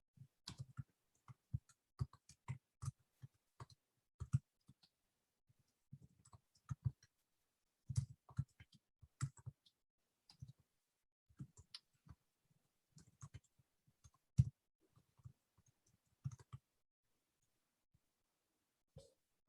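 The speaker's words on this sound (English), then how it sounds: "I'm just going to type something in." Someone typing on a computer keyboard, sparse irregular key taps and clicks with long gaps, faint and close with no voices.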